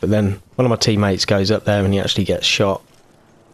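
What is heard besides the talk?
No everyday noise stands out behind the speech.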